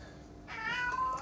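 A cat named Pix gives a single clear meow, fairly close and rising in pitch, after a quiet moment, with no talk over it.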